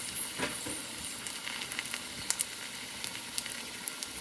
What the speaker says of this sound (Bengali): বেসন দিয়েই বড়াটা করছি। একই তেলে ভেজে নিচ্ছি।